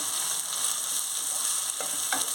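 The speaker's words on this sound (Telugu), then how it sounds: "ఇది కూడా బాగా వేయించుకొని కొంచెం టమాటీలు సాఫ్ట్గా అవ్వాలి." Tomatoes sizzle steadily in hot ginger garlic paste in a pan, a dense even hiss close up with a few faint stirring scrapes near the end. No voices.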